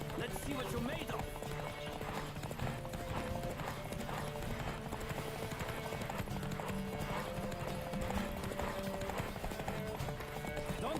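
Rapid rhythmic hoofbeats of a galloping horse in The Witcher 3, with occasional whinnies over steady game music, a voice talking intermittently on top.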